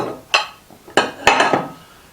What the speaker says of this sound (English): give that a little bit of a stir into the solution there